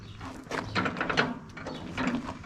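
Stiff compression relief valve lever being forced on an old John Deere tractor, giving a few scraping, ratcheting mechanical clunks and creaks close by, in uneven bursts with a pause midway.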